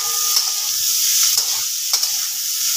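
Fried rice sizzles loudly in a pan, a close, continuous hiss with a couple of sharp stirring scrapes as it is turned over.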